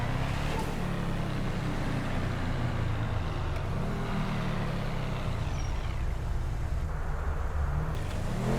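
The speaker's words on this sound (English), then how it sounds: "And this car is very fast." A fast car drives in Grand Theft Auto V, with a steady, loud engine roar and road rumble running continuously without a break and a slight swell in pitch partway through.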